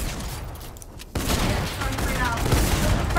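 Sustained rapid minigun fire in Fortnite Chapter 2 Season 2, a dense rattling stream cutting in abruptly after a short quiet stretch and continuing loud to the end.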